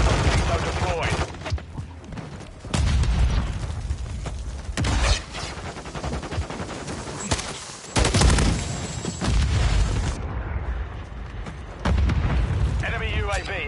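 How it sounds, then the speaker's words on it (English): A flash grenade is thrown in the video game Warzone, amid a loud, busy barrage of booming blasts and gunfire bursts, with several heavy impacts punctuating the mix and a voice talking over it. "Throwing flash grenade."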